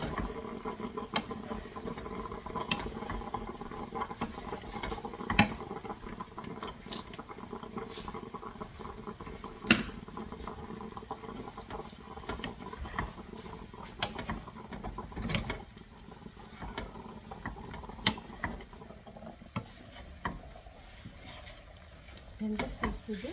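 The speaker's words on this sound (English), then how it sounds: "you're going to stir all of this together" Meatballs with orecchiette, kale and pine nuts stirred together in a pan, a steady patter of scraping and clinking with occasional louder knocks of the utensil against the pan over a continuous background.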